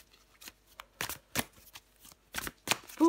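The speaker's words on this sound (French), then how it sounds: "Allez, je prends encore une carte pour vous, les Sagittaires." A deck of cards is shuffled with several brisk riffling bursts and soft flicks as one card is drawn, close and alone with no talk.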